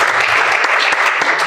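An audience at a fireside chat event claps continuously, a dense close burst of applause lasting over a second with a few sharper individual claps standing out.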